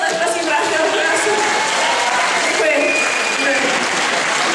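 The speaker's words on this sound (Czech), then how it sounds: "a potlesk, prosím" Loud, dense applause from an audience after a school skit about weightlifting, continuous for several seconds with faint voices mixed in.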